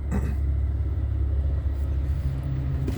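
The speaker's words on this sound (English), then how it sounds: "We had a truck coming by." Truck rolling by on an early-morning city street in Asheville, a steady low rumble of engine and tyres held close and even for a few seconds.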